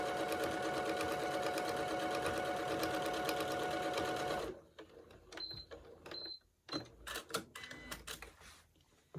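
A sewing machine stitches along the bottom edge of lace pockets, running loud and steady for about four seconds before stopping, followed by quieter handling noises and small clicks.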